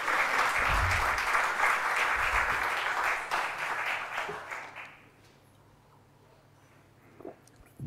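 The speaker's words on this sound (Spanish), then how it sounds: "Aplaudan nomás," An audience applauds at a talk on coastal shipping, a dense burst of clapping lasting about five seconds before fading into near silence with a faint murmur.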